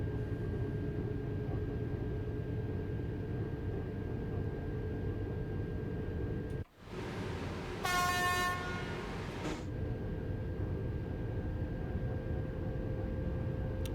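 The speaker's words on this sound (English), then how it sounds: "Does sound good for an electric train" An electric high-speed train on the LGV Mediterranee in Train Sim World 2 runs with a steady electric hum and rumble, briefly dropping out midway before a bright, tonal horn-like sound sounds for about two seconds.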